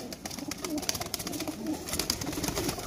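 A Kasoori pigeon coos nearby in soft, repeated throaty calls, with faint fluttering and rustling around it.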